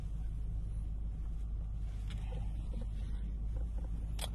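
A car engine idles and rumbles steadily while backing up at close range, a low continuous drone with no voices.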